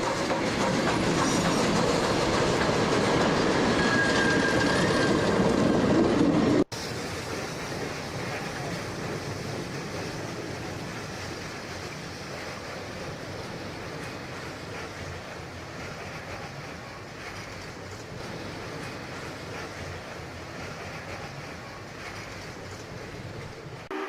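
The Snow Ball Express train rolls along the Elkvalley line, a long continuous rumble and clickety-clack of wheels on rail, loud and close at first, then a sudden drop to a steadier, quieter rolling for the rest.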